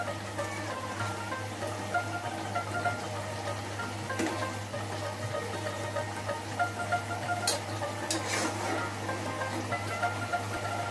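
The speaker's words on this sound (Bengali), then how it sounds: "মাছটা একটু উল্টায় দিব।" Rohu fish sizzles steadily in a hot pan while being flipped, a soft, continuous crackle and spatter over a low hum, with a couple of sharper sputters partway through.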